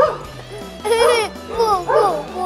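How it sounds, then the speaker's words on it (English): A dog barks and yelps in a park, two clear bursts over steady background music and play sounds, fairly close and loud. "Here's the doggy."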